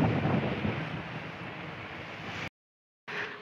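Strong wind buffets the microphone with a loud, rumbling roar, cutting out briefly before the gusty noise resumes.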